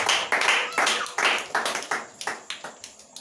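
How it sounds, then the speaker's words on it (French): A congregation claps for Jesus in a church service, about a dozen loud, close, even claps in a steady rhythm that slows slightly toward the end. "clap for Jesus."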